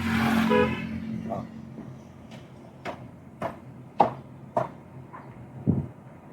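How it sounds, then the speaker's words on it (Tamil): One brief car horn honk at the start, followed by quiet engine noise and a series of scattered clicks and knocks. "ஒரு முறை ஹார்ன் அடிங்க"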